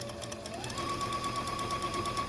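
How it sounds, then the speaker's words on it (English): A sewing machine stitches quilt blocks together with a continuous, even mechanical hum and rapid needle rhythm, close and moderately quiet, with no talking. "and simply sew those together"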